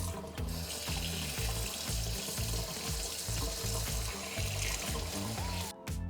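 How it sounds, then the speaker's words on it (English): Tap water runs steadily and gently over aquarium rock to rinse off dust, a continuous close splashing flow with a brief break near the end. "I'm just going to run it under the tap gently and rinse off this dust"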